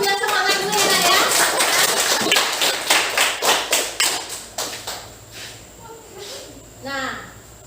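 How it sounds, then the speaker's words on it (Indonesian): A classroom of pupils claps in rhythmic rounds, the rapid claps turning into a slower, clearly spaced beat that fades out, while a teacher and children's voices are heard along with it. "Tepuk tangan dulu biar semangat dulu ya, Nak ya."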